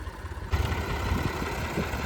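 A tractor engine runs steadily while the tractor is stuck in a field, one of several New Holland, Massey Ferguson and Swaraj tractors bogged down together. It is a loud, continuous droning rumble with no talk over it.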